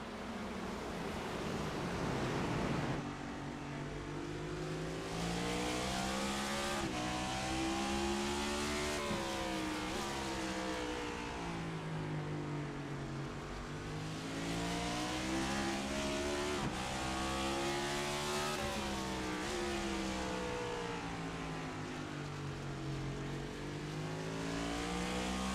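Race car engines at Martinsville in a racing video game roar steadily and loudly as the cars downshift into the corners, with pitch sweeping down and back up in repeated waves.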